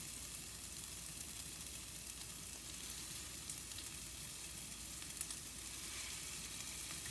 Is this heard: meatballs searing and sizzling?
yes